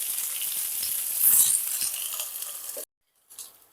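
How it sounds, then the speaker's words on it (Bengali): Vegetables for a pui mituli dish sizzle and fry steadily in a pan, loud and close for nearly three seconds, then cut off briefly before a short burst of sizzling returns. "এবার এগুলোকে ভালো করে একটু ভেজে নেব।"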